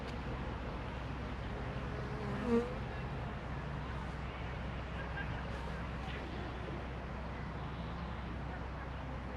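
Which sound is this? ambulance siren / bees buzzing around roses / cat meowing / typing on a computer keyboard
bees buzzing around roses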